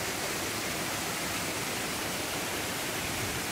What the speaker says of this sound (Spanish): Cascada número 4